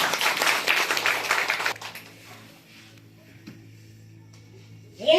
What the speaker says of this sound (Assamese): একবার তালি বাজাই কিনে ঈশ্বর দিব দে